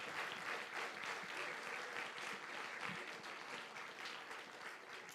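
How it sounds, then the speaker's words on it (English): Church congregation applauding children after their performance, a steady wash of many hands clapping throughout, distant and faint, heard alone. "would you guys give them a round of applause for all that they've done"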